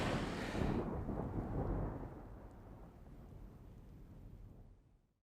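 Thunder before rain rumbles loudly, eases into a softer low roll, and fades away to silence at the end.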